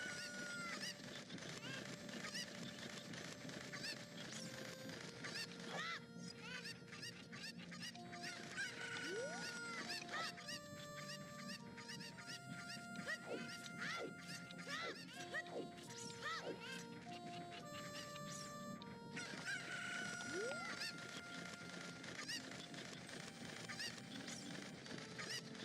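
Cuccos, the chickens of the game Zelda: Ocarina of Time, give honking clucks and squawks over busy melodic game music that plays throughout.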